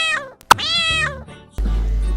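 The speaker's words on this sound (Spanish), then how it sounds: "¿Quieren saber cómo hace un gato?" A house cat meows clearly, a long drawn-out call with a brief thump partway through, followed by a low rumbling sound.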